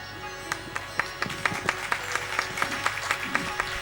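An audience at a religious festival applauds to welcome a guest, with moderate, fairly sparse clapping holding steady throughout and distinct claps standing out at a roughly even beat.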